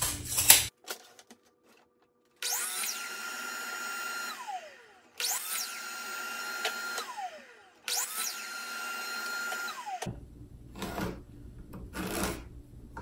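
A miter saw cuts wood pieces for pilasters three times in a row, each a loud whining blade pass of about two seconds with quiet gaps between, followed by workshop rattling.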